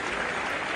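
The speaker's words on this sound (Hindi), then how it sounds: "जोरदार ताली बजाएं अपने दोनों हाथ ऊपर करके नरेंद्र मोदी जी के लिए" A crowd at a youth conclave in Indore claps in a brief, dense burst of steady applause with no distinct individual claps.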